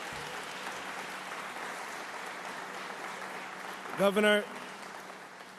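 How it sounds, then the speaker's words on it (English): Broad, steady wash of clapping from a crowd, with a man's brief spoken word breaking through near the end. "give him a big round of applause"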